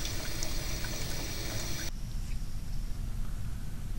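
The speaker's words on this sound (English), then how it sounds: "By carefully adjusting the kitchen faucet, we can produce a stream of water that is not only laminar, but also steady" A steady, laminar stream of water runs from a kitchen faucet, producing a continuous soft hiss and trickle that holds an even level throughout, with no talking.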